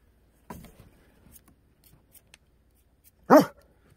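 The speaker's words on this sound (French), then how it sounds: "il y a le chien ici." A single loud, close dog bark bursts out near the end, after some soft shuffling and faint movement noises in a quiet space.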